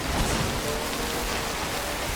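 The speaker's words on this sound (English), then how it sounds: "That's some heavy rain." Heavy rain pours down steadily in Death Stranding, a dense, even hiss with no breaks or voices.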